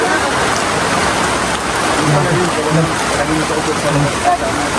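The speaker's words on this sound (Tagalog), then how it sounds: "Ang ulan." Heavy rain falls outside with a steady dense hiss, and faint muffled voices murmur beneath it.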